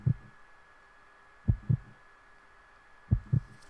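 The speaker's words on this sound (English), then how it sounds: "What's with the heartbeats this time?" Heartbeat sound effect in the video game Resident Evil Code Veronica X, three deep double thumps spaced evenly about every one and a half seconds over a quiet low hum.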